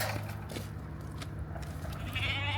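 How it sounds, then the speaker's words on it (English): A sheep bleats outdoors in a Welsh valley, a faint, wavering call that rises out of steady wind noise and low background hum, fairly distant and heard only briefly. "There's always sheep."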